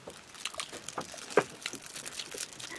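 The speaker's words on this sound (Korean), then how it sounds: "비닐을 왜 이렇게 오래 뜯어?" Plastic wrapping being torn open around a dessert container at a small indoor party: quiet, irregular crinkling and ripping rustles with a few sharper snaps, no talking.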